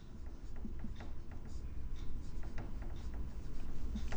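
A marker or chalk writes on a classroom board during a chemistry lesson on logarithms, making faint scratchy strokes and light taps in quick uneven rhythm over a soft background hum.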